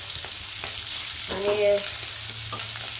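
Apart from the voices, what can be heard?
sautéing stuffed capsicum in hot oil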